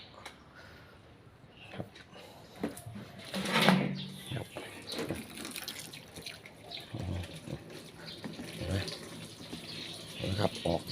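Water rinses a car headlight after cleaning off yellowed haze with laundry detergent, an uneven splashing and trickling close by, with someone talking intermittently over it.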